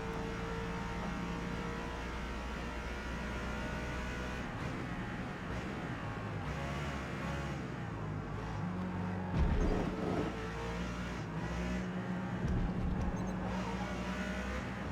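Race car engines in Forza Motorsport at Indianapolis, a Lexus RC F in B class closing on a Nissan Skyline: a sustained engine drone with shifting revs, a louder surge near the middle, and no talking.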